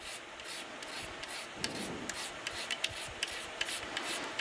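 A razor blade scraped across a guitar's painted finish to add wear, steady close rasping strokes with small clicks, fairly quiet and without talk.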